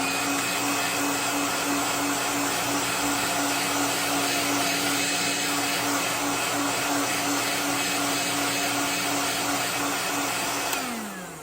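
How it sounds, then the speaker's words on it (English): A heat gun on its heat setting blasts steadily to set fresh paint on a custom crawfish fishing lure, a loud continuous roaring whine that holds for the whole span and cuts off near the end. "I'm going to heat set this really fast, so excuse the noise."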